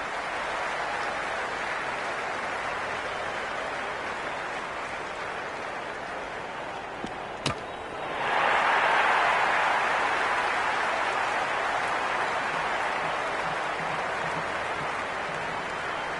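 Stadium crowd in the Cricket 26 video game cheering and applauding as a steady broad roar, swelling louder partway through after a brief sharp knock, and sustained to the end.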